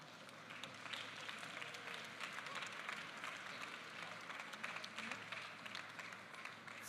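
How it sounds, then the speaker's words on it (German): An audience at the Swiss Coffee Festival applauds the jury with a steady, faint patter of clapping that stays even and distant throughout. "Applaus für die Jury natürlich auch an dieser Stelle."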